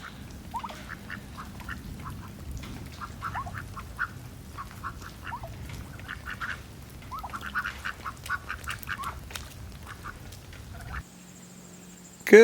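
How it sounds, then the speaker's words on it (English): Farm ducks quack in repeated bursts around a pasture after heavy rain, moderately near and without talking, with a sharp louder noise at the very end. "Ducks look pretty excited."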